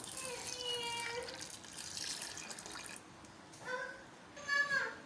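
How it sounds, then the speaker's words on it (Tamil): Water being poured into a semolina and sago batter, heard as a close, gentle stream that trickles and splashes in several short pours with brief pauses, fairly quiet. "இப்போ இதில் வந்து நம்ம தண்ணி சேர்க்கலாம் நான் வந்து இன்றைக்கி ரெண்டு கப் தண்ணி எடுத்திருக்கேன் அதை வந்து நம்ம உள்ளே சேர்த்துக்கலாம்"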